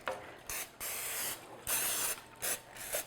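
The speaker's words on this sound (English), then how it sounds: "I'm just going to spray it with one of these non-stick sprays" Several short bursts of non-stick cooking spray hiss from an aerosol can onto a pan, with brief clicks and pauses between the sprays.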